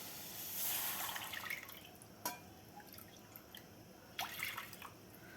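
Water is poured over rice semolina in a home kitchen. A faint, brief splashing pour is followed by a few soft drips and small clinks in an otherwise quiet room.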